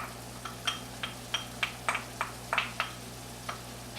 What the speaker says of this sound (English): we're going to go ahead and add our onions and garlic